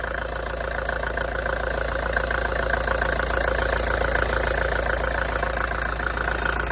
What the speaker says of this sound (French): le moteur est allumé depuis 1 minute